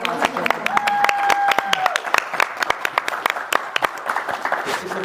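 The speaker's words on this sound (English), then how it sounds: "guys, can we just give a round of applause?" A small group claps in scattered, distinct hand claps during a civic engagement talk, with a voice briefly audible over the applause as it tapers off.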